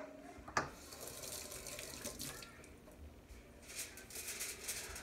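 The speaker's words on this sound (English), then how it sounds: "Let me rinse my hands." Tap water runs steadily into a sink while hands are rinsed in a kitchen, a soft continuous splashing with a small clunk near the start and fluctuating patter.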